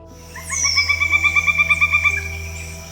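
A loud, rapid series of high, ringing piping notes from a pileated woodpecker, about a dozen evenly spaced calls rising then fading, with no talking.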